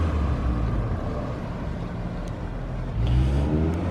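A Honda Civic GSR wagon with an all-wheel-drive swap idles smoothly with its engine a steady, low hum, nearby and fairly quiet, and no voices over it.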